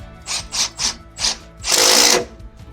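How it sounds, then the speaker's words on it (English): A screw being tightened in during an assembly job gives a few short, close ratcheting bursts in quick succession, then one longer continuous grinding turn, with no talking. "Your A screw, tighten up."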